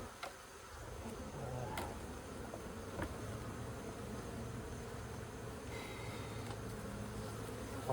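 Honey bees from a very strong colony buzzing at an opened hive during an inspection where honey supers are being pulled, a continuous low humming drone with a few faint clicks, steady and fairly quiet, no talking.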